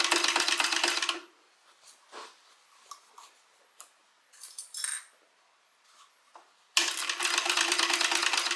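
A sewing machine stitches a bag seam in two sustained bursts of fast, even mechanical buzzing, one at the start and one at the end, with quiet fabric handling and light clicks in between.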